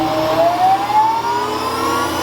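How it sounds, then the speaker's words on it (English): Steady electric whine from the power steering pump motor of a 1971 crew cab truck, key on with the engine off, holds a thin rising tone over a constant hum. It stays close and even throughout with no talk. "You can hear the motor's on, so it's building pressure right now"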